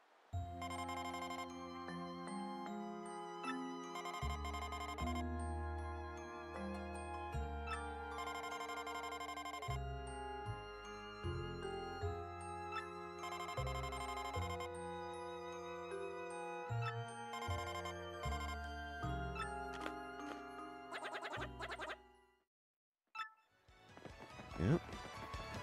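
A melodic electronic ringtone jingle from the Paper Mario: The Thousand Year Door video game, a long run of bright, bell-like tones that plays clearly on its own and ends with a short pause and a few closing hits.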